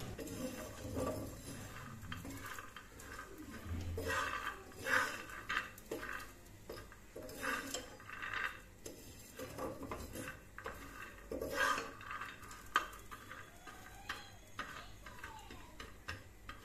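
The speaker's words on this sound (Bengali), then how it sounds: "তারপরে হচ্ছে ভালো করে বাদামগুলোকে ভেজে নিচ্ছি।" Peanuts being fried and stirred in a pan, with irregular clinks and scrapes of a utensil against the pan and a faint sizzle underneath, in intermittent bursts at close range.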